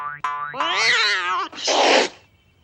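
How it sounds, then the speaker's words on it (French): A cartoon cat acting like a wild cat, hopping on the spot: after a springy boing and a wavering meow-like cry comes a loud, breathy hiss-and-spit burst, close and alone. "Fait le chat sauvage, en sautillant sur place et en crachant."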